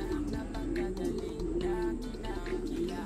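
Hungry pigeons gathered near their coop coo in a low, continuous, overlapping murmur, moderately close, with soft rustling and scattered chirps over a steady background hum.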